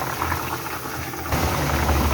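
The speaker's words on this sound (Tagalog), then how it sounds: "kumukulo na ang bangus na aking niluluto" A covered pot of milkfish bubbles and simmers steadily, a low gurgling boil that grows slightly louder partway through, with no talking.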